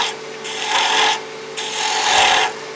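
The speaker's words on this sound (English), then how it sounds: "I'm going to take a spindle gouge" A spindle gouge cuts a spinning blank of mixed epoxy resin and wood on a lathe, giving two sustained rasping, scraping passes with a short pause between them, loud and close, with no talk.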